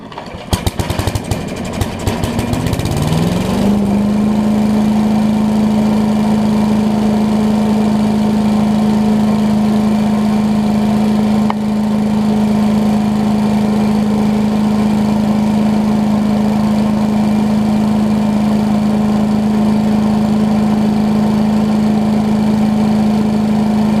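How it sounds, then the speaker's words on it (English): A small 8hp Briggs petrol engine on a leaf vacuum blower sputters to life and then settles into a steady, loud, droning idle that runs on without a break. "Engine seems to run better now"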